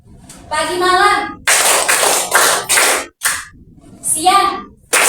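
Classroom of fourth-grade schoolchildren clapping together in a call-and-response rhythm game, sharp bursts of group claps alternating with children chanting, loud and close.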